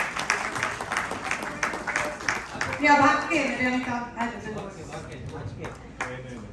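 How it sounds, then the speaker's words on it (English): An audience applauds to welcome Dr. Deepak Shah on his birthday during a debate event, scattered clapping running under a speaking voice, with a sustained tone rising briefly in the middle. "Please welcome him with a big round of applause"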